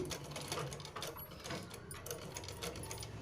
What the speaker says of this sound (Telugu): పూస ఒకసారి కుట్టి చూపిస్తాను నన్ను చూడండి మీరు